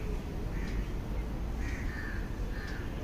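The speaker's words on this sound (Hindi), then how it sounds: "पक्षियों की आवाज़ सुनिए, चहचहाट आपके लिए" Crows caw in a morning garden, three harsh calls spaced about a second apart over a low, rumbling background hum, no speech.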